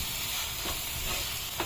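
Tomatoes with turmeric powder frying in a pan, a steady broadband sizzle with faint stirring scrapes and one soft clink near the end, no voices.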